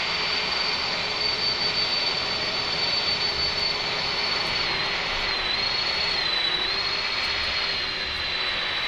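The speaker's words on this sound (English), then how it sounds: "those engine sounds are loud" Airbus A310 jet engines in Microsoft Flight Simulator 2020 roar loudly and steadily, a constant whine with a high tone that dips and wavers slightly midway, no voices over it.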